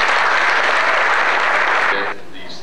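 Dense audience applause at a J.P. McCaskey High School band event, steady and full for about two seconds before cutting off abruptly into quieter room sound.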